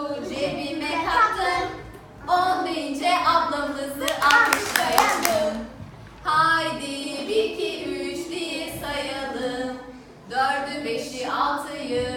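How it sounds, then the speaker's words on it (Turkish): Children clap their hands along to a Turkish preschool counting song: a brief, bright burst of claps breaks in between the sung lines, and the singing carries on around it. "On deyince abimizi alkışlayalım."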